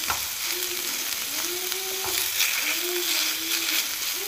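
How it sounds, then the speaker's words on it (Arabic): Minced meat kofta frying with onion in a pan, a continuous loud sizzle with occasional stirring scrapes, up close. "راح نخليها حتى اللي تقلى هاد الكفته"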